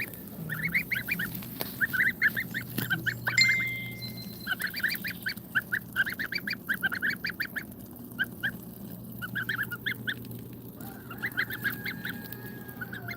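Bar-headed goose goslings call in rapid bursts of high chirping peeps, fairly close, with a steady low background hum throughout.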